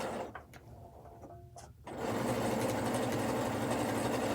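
A sewing machine starts up and runs steadily in free-motion stitching with white thread on white fabric, a continuous close mechanical hum after a few brief handling clicks.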